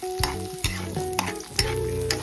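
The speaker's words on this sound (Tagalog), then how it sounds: "At medyo tostado na yung sibuyas, ay ilalagay na natin yung bawang." Onion and garlic sauté in hot oil in a kawali, with steady sizzling under repeated close scrapes and stirs of a utensil against the pan; no one speaks.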